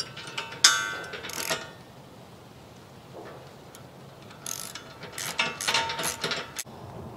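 A wrench ratchets in quick bursts while tightening bolts on a Woodland Mills HM126 sawmill track extension, the clicks coming close and loud with pauses between turns.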